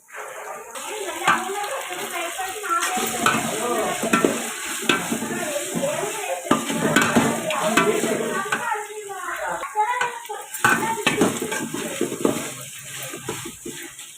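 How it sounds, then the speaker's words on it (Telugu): Ginger garlic paste with onions frying in a pan, a steady close sizzle broken by the scrape of a stirring spoon, continuous and moderately loud with no talk. "ఇప్పుడు ఇది పచ్చివాసన పోయేదాకా ఫ్రై చేసుకుందాం"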